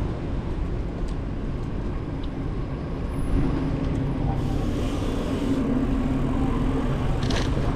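Steady road traffic rumbling past on a street in Krakow, Poland, heard from a bicycle, a continuous dense roar of engines and tires with no clear individual pass-bys.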